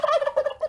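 A turkey gobbling sound effect rings out alone in a quick, close burst of warbling gobbles lasting under a second.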